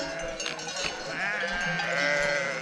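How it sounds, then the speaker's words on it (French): A flock of sheep bleats on a high mountain trail in the Pyrenees, several overlapping wavering calls close by over steady outdoor background noise, with no talking. "On est au milieu des moutons."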